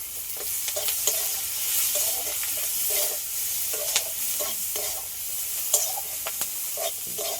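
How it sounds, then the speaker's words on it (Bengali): Panch phoron, chopped onion and a bay leaf tempering in hot oil, giving a steady close sizzle with repeated scraping and stirring strokes across the pan and no voices. "পাঁচফোড়ন, পেঁয়াজ কুচি, একটা তেজপাতা"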